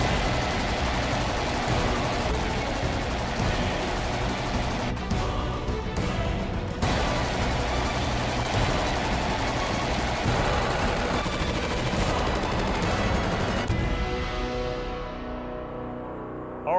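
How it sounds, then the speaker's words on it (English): A SIG SG 552 Commando rifle fires loudly and close in fast, sustained bursts of full-auto gunfire, with a brief break midway before the last shots fade out. Nobody speaks. "All right, another machine gun."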